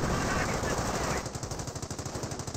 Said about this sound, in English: 30 cal firing away, fires it up.